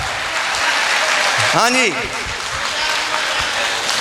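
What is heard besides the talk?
audience applause at a speech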